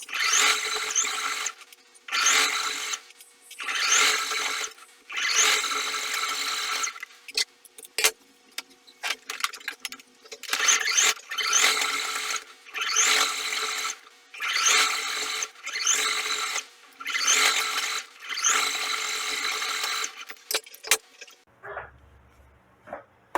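Sewing machine stitching a straight seam through bulky fabric, loud whirring bursts of rapid stitching broken by short pauses and clicks, ending with a few quiet handling noises.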